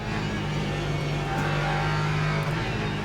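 A race car engine in the Le Mans Ultimate racing game drones loudly and continuously with a steady high rev, track noise blending underneath, no voices.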